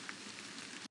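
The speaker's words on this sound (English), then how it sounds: "the sound of the rain tapping against the window" Soft, steady rain tapping against a window in the video game Hashihime of the Old Book Town, a faint continuous hiss of drops with no voices, cutting off abruptly.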